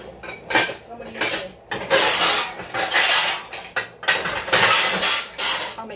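Metal baking pans clatter and scrape as a larger 9x13 pan is pulled out, several loud bursts of banging and rattling close by with short pauses between them; no talking.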